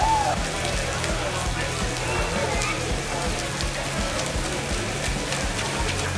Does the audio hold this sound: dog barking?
no